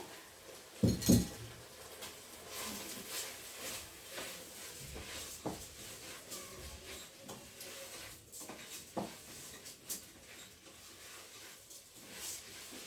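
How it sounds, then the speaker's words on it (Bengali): Rice and lentils are added to a cooking pot for bhuna khichuri, starting with a sharp clatter and followed by light clinks, taps and rustling grains at close range. "এখন আমি চালটা দিয়ে দিব বিসমিল্লাহ কইয়া"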